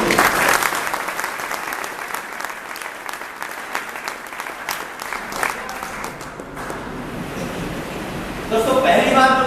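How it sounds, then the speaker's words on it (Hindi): Loud, sustained applause from a seminar audience at a celebration event in Pilani, a dense wash of clapping that continues throughout and swells again near the end. "एक जोरदार ताली होनी चाहिए सभी।"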